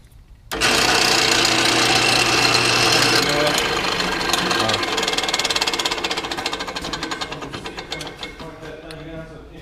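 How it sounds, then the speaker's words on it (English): A loud power drill whines and grinds through a metal plate for a BMW E46 M3 secondary air pump delete, starting abruptly and running continuously before tapering off near the end. "So we got one hole drilled."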